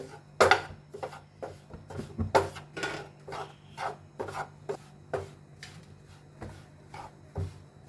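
Besan is stirred together with milk powder in a pan for besan peda, making repeated scraping and rubbing strokes of a spoon against the metal in an uneven rhythm, close up and without speech.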